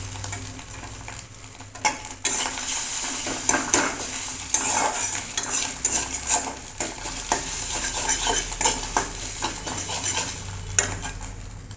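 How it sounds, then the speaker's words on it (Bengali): Fish roe frying in a pan while a metal utensil stirs and scrapes it, with a steady sizzle under irregular clinks and knocks against the pan, close and moderately loud. "মাছের ডিমটা ভালো করে ভুজিয়ার মতো ভেজে নেব।"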